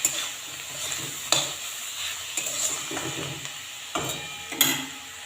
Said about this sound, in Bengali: নুন হলুদ দিয়ে পেঁয়াজ কুচিটা 1 মিনিট মতো রেখেছিলাম, ভাজতে দিয়েছিলাম।